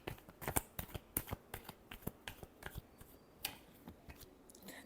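Tarot cards are shuffled by hand in a run of crisp, rapid riffles and slaps, close and fairly soft, with irregular pauses between bursts.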